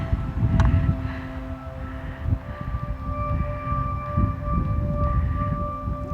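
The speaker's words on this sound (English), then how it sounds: "it's really windy up here" Steady rumbling wind buffets the microphone on a clifftop on Mayne Island, with low roaring gusts, while faint sustained tones drift in the background.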